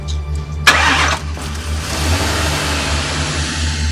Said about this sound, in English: This car is not starting